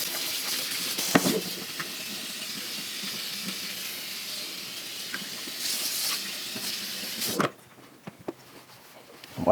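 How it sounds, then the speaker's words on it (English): Water runs into a kitchen sink to rinse it, a steady close hiss that swells and dips and stops abruptly near the end, leaving brief faint clatters. Nobody speaks. "let's rinse it once more and let's take a good look at it."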